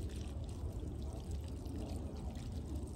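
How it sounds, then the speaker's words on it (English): Water poured from a watering can onto garden plants, including succulents and pumpkins in autumn, a soft continuous splashing trickle heard alone and fairly quiet. "One of the reasons why I love to come and water everything is to take the time"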